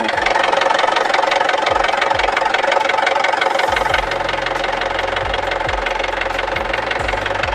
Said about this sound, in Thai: เดี๋ยวฟังเสียงเครื่องนะครับ